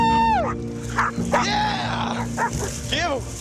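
Hunting dogs bark, yip and whimper close by in rapid, overlapping bursts, with high whines rising and falling, while excited people shout over them.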